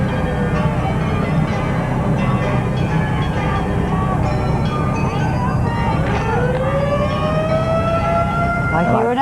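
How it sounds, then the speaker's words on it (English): Emergency vehicle siren wailing through a 1989 Christmas parade in Spartanburg, South Carolina, its pitch sweeping up and down over dense crowd noise and chatter, loud and fairly close, rising again toward the end. "I hear another siren."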